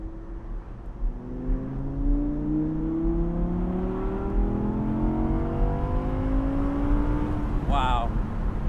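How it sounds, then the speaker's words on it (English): An Audi R8 Spyder's naturally aspirated V10 engine climbs steadily in pitch as it revs and accelerates for several seconds, loud and close, with a brief high chirp near the end. "Wow, naturally aspirated V10 engine, pretty hard to beat."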